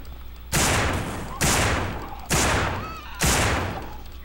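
Four loud, close gunshots from the zombie shooter game No More Room In Hell, fired at a steady pace roughly one per second, each sharp blast trailing into a decaying echo.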